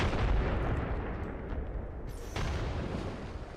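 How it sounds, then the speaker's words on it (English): Frag grenade blast in Apex Legends, a broad low rumble running through the clip with a sharper burst near the middle, loud and dense with no talk over it. "Grenade out."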